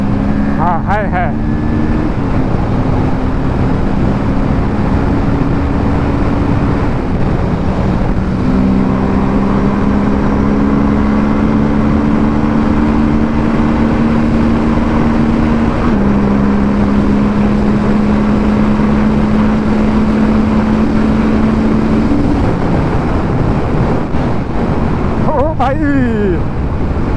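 A 2025 Kawasaki Ninja sport bike, a 650 or ZX-6R, accelerates hard toward 190, its engine whine rising in long pitch sweeps between gear changes under loud wind rush, with a rider talking at times.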